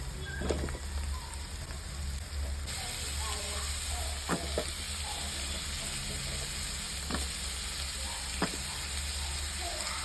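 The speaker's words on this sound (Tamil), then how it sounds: "மஷ்ரூம் சேர்த்துக்க போகிறேன் நான்." Mushrooms sizzle and fry in a pan while palak mushroom is cooked, a steady close crackling hiss with a few sharper pops, running the whole time without speech.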